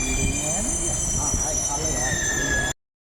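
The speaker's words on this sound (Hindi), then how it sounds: "मेट्रो आ गई," A Delhi metro train pulls into the station with a steady loud rumble and a high squealing whine from the wheels, while people talk over it, until it cuts off abruptly.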